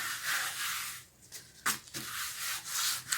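Hand sanding of painted wood: raspy back-and-forth rubbing strokes, close and fairly loud, pausing briefly midway with a few scuffs before the steady abrasive scraping resumes.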